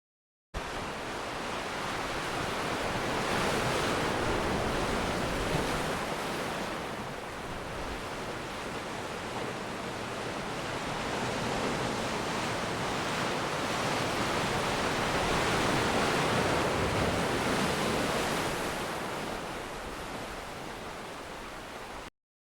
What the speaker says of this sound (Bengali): আমরা এখন সমুদ্রের পাড়ে চলে এসেছি।